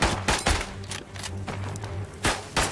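A machine gun nest in the WW1 game Isonzo fires in a dense, rattling fusillade, with sharp loud reports at the start and end over a continuous rumble of distant shots.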